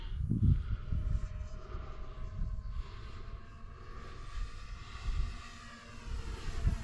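A balsa-wood model airplane driven by two 2200 kV 822 12 6T motors flies overhead, its buzzing engine drone rising and falling in loudness as it passes, moderately distant with no talk.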